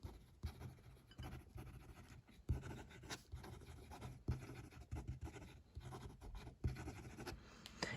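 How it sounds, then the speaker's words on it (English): A Lamy Scala fountain pen scratches across paper in quick writing strokes, close and faint, with short pauses between bursts of nib friction and no talking. "It kind of writes exactly as you would expect a Lamy to write."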